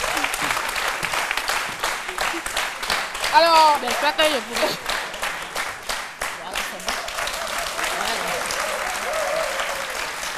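Sustained applause from a TV talk show studio audience, dense clapping throughout, with a host's voice speaking briefly in French over it as a guest takes her seat.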